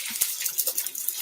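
A kitchen tap runs during cooking, a brief hissy gush of water with small splashes, moderately loud and close, with no talk over it.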